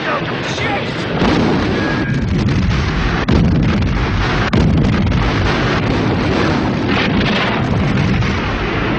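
Ammunition dump exploding in a World War II battle film: a continuous loud roar of blasts and rumbling booms with dense crackling, wind-like noise and shouting voices mixed in.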